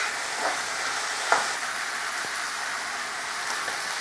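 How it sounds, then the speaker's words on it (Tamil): Onions or chicken sautéing in a pan for a Tamil-style chicken fry, a steady broadband sizzle throughout with a couple of sharp utensil scrapes, close and even, no talking. "இது கொஞ்சம் நல்லா வதக்கிக்கணும்."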